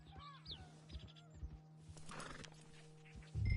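Horse whinnies and clip-clopping hooves in Red Dead Redemption 2, several clear neighs over a steady rhythm of hoofbeats, with a low constant hum beneath and a louder thump at the end.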